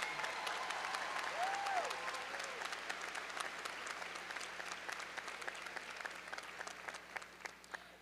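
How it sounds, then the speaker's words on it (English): Graduates, families and guests at a 2023 undergraduate commencement ceremony clap in sustained, even applause that fills a large hall and slowly tapers toward the end. "Let's have a round of applause for these outstanding students one more time."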